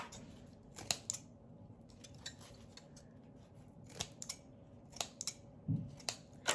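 Scissors snip off excess decorating material while trimming a handmade spring topiary, a few crisp close-up cuts separated by pauses, with no talking.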